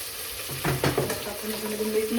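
Ginger-garlic paste and tomato sauté in a hot pan, giving a soft steady sizzle with a few louder spatters and stirring scrapes near the start, all fairly quiet and close.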